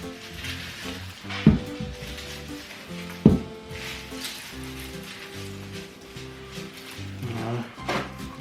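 Onions frying in a pan, a soft steady sizzle with occasional stirring and two sharp clatters of utensils, close and fairly quiet, with faint background talk.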